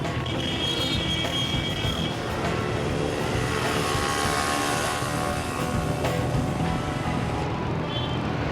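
Heavy rush-hour traffic builds up at a busy crossroads: a dense, steady roar of many vehicles that stays loud and unbroken throughout, with no one speaking.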